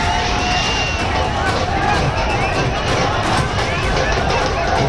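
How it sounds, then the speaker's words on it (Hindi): A large crowd of protesters demanding removal of a mosque in Uttarkashi, a dense, loud wash of outdoor babble and shouting that holds steady throughout. "प्रदर्शनकारियों की भीड़, मस्जिद हटाने की मांग करते लोग"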